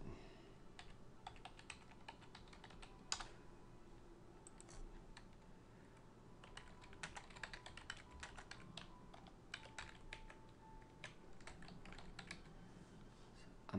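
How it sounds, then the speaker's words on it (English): Fingers type steadily on a computer keyboard, soft close key clicks in uneven runs with brief pauses, recorded quietly in an otherwise still room. "I'm going to type my Yahoo account."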